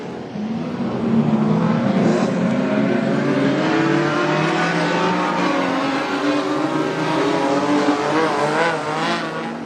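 Modified sedan race cars roar around the dirt oval at Gympie Speedway, engines revving and droning loudly and continuously as the pack passes, with a dense wall of engine noise throughout.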